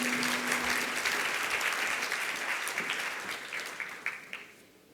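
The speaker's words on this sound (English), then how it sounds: "I'm sure we can support that with a round of applause." Steady applause from a large audience at an anniversary awards function, greeting a bouquet presentation to a chief guest. Dense clapping fills the room and fades toward the end, with a few louder claps standing out.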